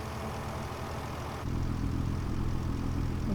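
Tractor engine in the Farming Simulator 25 video game, a steady low mechanical drone that steps up louder and heavier partway through, as if revving, continuous with no talk.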